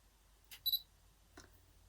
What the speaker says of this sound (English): the shutter release and that will focus it